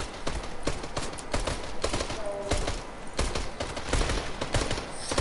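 Video game pistol gunfire crackles in rapid, scattered bursts, dense and fairly loud, with overlapping shots through the whole stretch.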